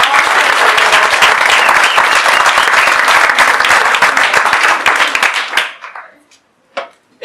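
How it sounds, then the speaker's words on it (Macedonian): Loud applause from an audience at a business talk: a thick, steady roar of many hands clapping for several seconds, then a quick fade to a few last claps and quiet. "Аплауз за луѓе!"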